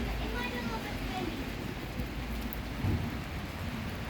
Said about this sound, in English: all I can hear is rain.